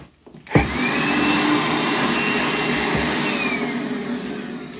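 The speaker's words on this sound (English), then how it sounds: "I'm just going to grab a hoover" A vacuum cleaner switches on after a brief moment of quiet and drones steadily and loudly close by, with a whining motor tone holding for several seconds, during a live build session for an SCX24 crawler.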